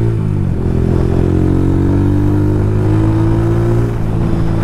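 A Yamaha YBR 125G motorcycle with new clutch plates and a tuned carburetor runs at around 40, its engine droning loud and close with a rising pitch as it accelerates, plus wind rush, with no talk.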